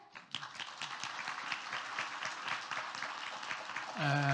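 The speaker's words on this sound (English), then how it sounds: "Let's give him a round of applause" Audience applause at a youth trends forum, with dense, steady clapping from many hands for about four seconds, ending abruptly as another sound begins.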